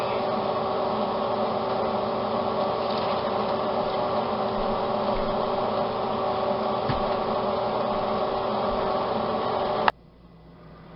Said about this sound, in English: I just realized that I had the fan on the whole time